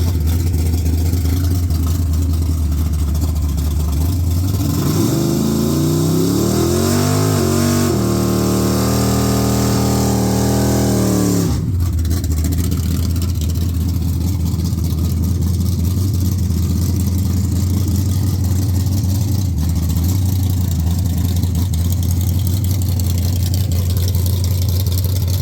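A turbo Plymouth car on a test pass: a loud engine drone climbs through a rising rev sweep midway, then drops back to a heavy, steady rumble with wind noise.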